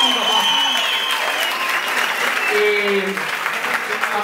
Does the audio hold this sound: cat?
no